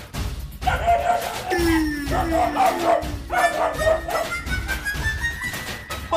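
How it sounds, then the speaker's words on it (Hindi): A dog barks repeatedly indoors inside a house, the barks and yips close and loud, mixed with whines, with some voices in the background. "बिल्ली के पीछे पीछे कुत्ता भी घर में घुस गया है क्या?"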